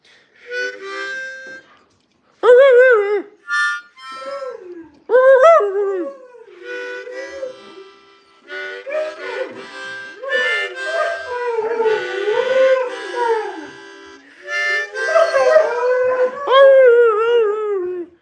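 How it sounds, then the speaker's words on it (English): Borzoi dogs howl in long rising and falling wails, several voices overlapping in bursts, close and loud, with a few yips and whimpers between howls. "let's get some howls going"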